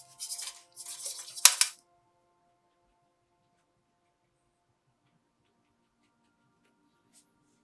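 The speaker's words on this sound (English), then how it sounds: "I think it needs some brush strokes, some dry brush strokes running through here." Dry brush strokes scrape across watercolor paper in a few short, close bursts of papery rasping during a landscape painting of boats, mountains and water, then near silence follows.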